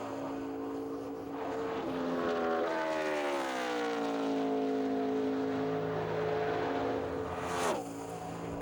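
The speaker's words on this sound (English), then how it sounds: "I just love listening to these engines scream at the end of these straightaways here at Indy" NASCAR stock car engines scream along the long straightaway at Indianapolis during qualifying, a loud, sustained roar that rises and bends in pitch as cars pass, with a brief sharp swell near the end.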